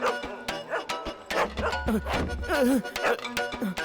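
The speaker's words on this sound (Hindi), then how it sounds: "अंदर कुत्ते की आवाज क्यों आ रही है?" A fierce dog kept indoors, in a Hindi-dubbed film scene, gives short repeated barks and yips with whining tones, close and fairly loud over a busy soundtrack.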